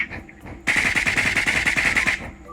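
Rapid automatic gunfire in the shooter game Sausage Man, a loud, dense burst of about a dozen quick shots lasting over a second and a half, following quieter game sounds.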